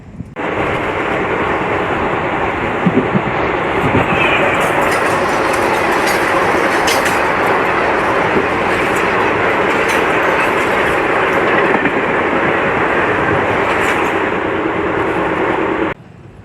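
A passenger train on the main line between Palakollu and Chennai rumbles loudly and continuously, with rhythmic clickety-clack of wheels over rail joints and a steady wagon roar throughout.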